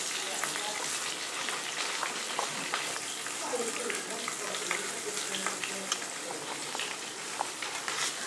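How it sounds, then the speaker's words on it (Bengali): A rohu fish head fries in hot oil for a traditional Bengali labra dish, giving a steady dense sizzle with scattered pops and spits, while a voice talks quietly over it. "এই মাছের মাথাটা ভাজা হতে থাক"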